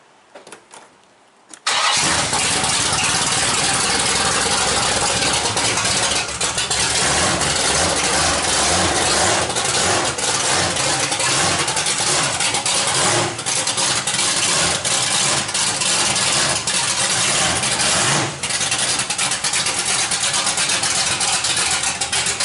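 A Corvette drag car engine fires up after a moment of quiet and settles into a loud, rough, close idle that continues steadily with slight dips, no voices.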